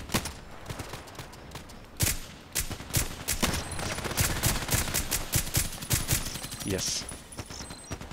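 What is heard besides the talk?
gunfire in a shooter video game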